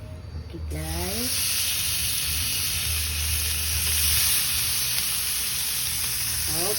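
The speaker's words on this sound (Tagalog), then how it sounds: "so first we're gonna grill the pork" Pork belly sizzles on a hot grill with a steady, loud frying hiss throughout, while a voice speaks briefly at the start and again near the end.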